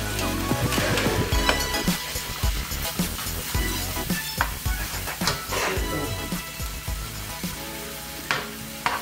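Food frying in butter and olive oil with oyster sauce, a loud steady sizzle with repeated scraping and stirring clatter of a utensil against the pan, close and continuous.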